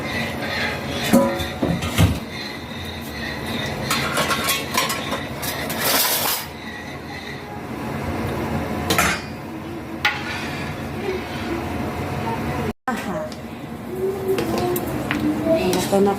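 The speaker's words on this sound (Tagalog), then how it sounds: "Walang tigil natin pag haluin natin ito." A spoon scrapes and clinks steadily against a pot while maja blanca is stirred without pause, a continuous close stirring rattle running under a person talking, with a few sharper knocks.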